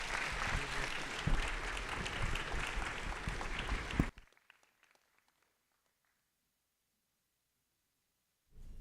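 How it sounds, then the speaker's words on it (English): Audience applause at a summit on decentralization, AI and computing, a dense, loud burst of clapping that runs about four seconds and then cuts off abruptly into near silence. "Let's clap again for the speakers."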